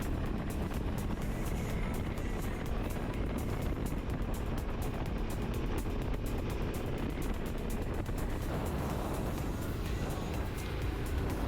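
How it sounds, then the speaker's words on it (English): Motorcycle engine and exhaust droning steadily while riding through the desert, a continuous loud rumble blended with heavy wind noise for the whole stretch. "the sound of your pipe roaring behind you, echoing off through the desert"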